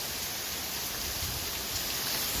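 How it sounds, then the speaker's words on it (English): Heavy rain pouring during a thunderstorm in Rotterdam, New York, a dense steady hiss of falling water filling the whole clip with no voices. "It is literally pouring."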